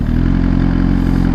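A motorcycle engine idles steadily up close, a loud, even rumble with a low, throbbing pulse and no talking.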